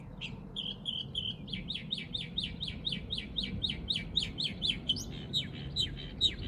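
A bird sings loudly outside at dawn in New Mexico, repeating a rapid series of bright chirped notes in steady rhythm over faint background hum, with no talking.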